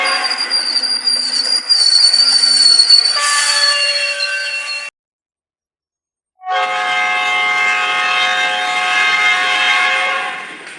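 Train sound effect: a loud passing train with squealing wheels and a sustained horn blast, cut off by a short silence before another long, tonal horn or whistle sounds.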